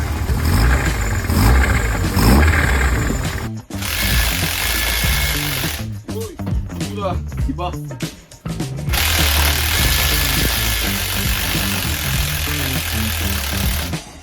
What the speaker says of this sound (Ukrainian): на другий проїзд почув, що щось в моторі стучить